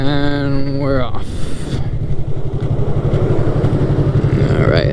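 A Yamaha MT-03 motorcycle pulls away, its engine note rising into a steady, pulsing drone close to the rider, with a spoken voice briefly over it at the start.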